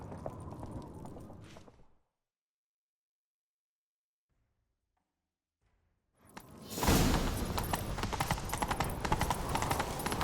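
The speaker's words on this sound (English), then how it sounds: "Grab a horse, we'll chase him down." A horse gallops in The Witcher 3 video game. After a short stretch of near silence, loud, fast hoofbeats burst in close by and continue steadily to the end.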